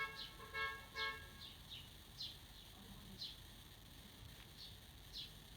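A car horn outside gives two quick, faint toots early on, followed by high, chirp-like beeps repeating at intervals against a quiet background.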